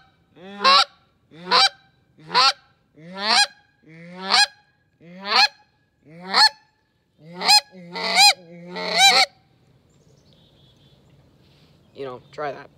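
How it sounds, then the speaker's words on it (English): A goose call played with a cupped hand that slowly opens gives a series of about ten sharp, evenly spaced honks, close and loud, then a brief voice near the end. "I'm gonna slowly open my hand up, and it's gonna slowly sound like different geese"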